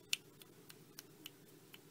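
A voice imitates a creature's clicking: a sharp click followed by a run of soft, evenly spaced ticks, faint and close.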